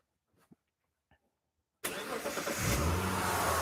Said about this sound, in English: I'll just start the car and I'll show you what it quickly does.